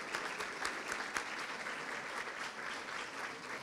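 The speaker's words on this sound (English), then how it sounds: "I would like for all of you to applaud your friends and family" A standing crowd applauds student athletes at a recognition ceremony, with sustained, fairly quiet clapping from many hands and a few sharper individual claps standing out.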